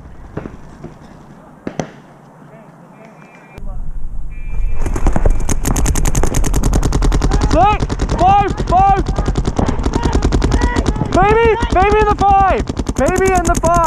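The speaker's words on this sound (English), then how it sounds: "Someone's shooting cross field." Paintball guns fire in rapid bursts and continuous volleys during a tournament match in Las Vegas, loud and close, with shouted voices and squeaky pitched calls over the shooting after a quieter start.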